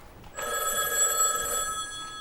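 A stage telephone rings in a Sweet Apple household during a school production of Bye Bye Birdie, a bright, steady electronic bell trill that starts abruptly and sustains close and clear for about two seconds.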